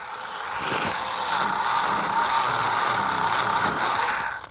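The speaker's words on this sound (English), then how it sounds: "any kind of sanding of the tire will take off that top layer" Continuous dry sanding hiss as a sticky slot car tire is sanded down, steady and close for several seconds before cutting off abruptly.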